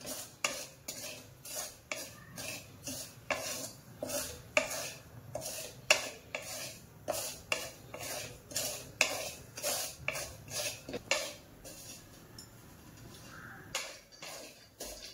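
Semolina sautéed in ghee while being stirred with a metal spoon, a steady run of scraping and clinking strokes against the pan, close and fairly quiet, with no talking.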